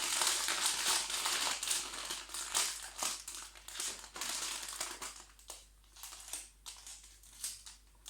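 Paper wrapping on a gift hamper being folded and taped, close crinkling and crumpling in quick irregular bursts, with sharp rustles and scrapes at a soft level.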